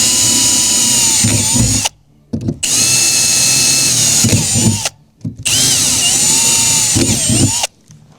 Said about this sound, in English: it's easy to drill because the roof isn't flexing